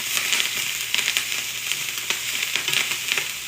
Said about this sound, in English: we're getting some nice browning on our kale